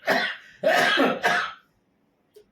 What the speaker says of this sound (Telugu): గట్టిగా అరవడం వల్ల మళ్ళీ దగ్గు వస్తుంది.